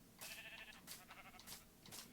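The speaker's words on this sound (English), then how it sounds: "And there's the sheep." Sheep in the video game Minecraft give a few short, quiet bleats in quick succession, with a brief gap and no talking.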